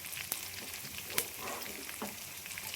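Onions fry lightly in garlic-flavoured oil, a soft steady sizzle with occasional spoon clicks and stirring scrapes, quiet and close, no talking.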